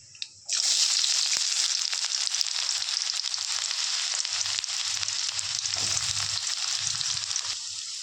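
Chopped onion drops into hot oil with nigella seeds and sets off a sudden loud sizzle that carries on as a steady, close hiss, with a few faint low knocks underneath and no talking.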